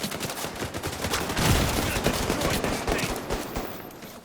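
Gunfire in The Division 2 shooter game, a steady stream of overlapping shots and impacts at moderate loudness, sustained across the whole stretch without pauses.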